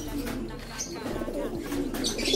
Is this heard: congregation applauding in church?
no